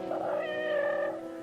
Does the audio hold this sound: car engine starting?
no